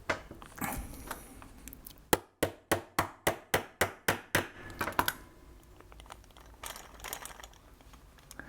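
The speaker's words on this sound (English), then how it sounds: "As you heard, I needed to do a bit of hammering." Hammering during assembly of a Jaguar E-Type scale model: about ten sharp, evenly spaced taps in a quick run, close and crisp, with handling noises of parts before and after.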